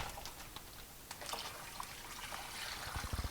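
Brine poured into a bag holding trout for grilling and smoking, heard as a faint, close trickling and splashing of liquid with soft crinkles, ending in a few louder glugs.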